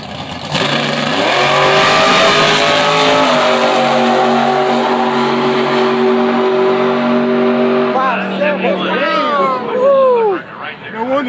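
A Mopar dragster thunders down a drag strip at a race meet. A loud, sustained engine roar rises through stepped gear changes, then the pitch swoops as it fades, with commentator talk heard over it near the end.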